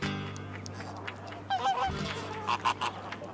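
Chilean flamingos in the Atacama desert giving goose-like nasal honks, a few short calls in two brief bursts over a low background hum, with no voices.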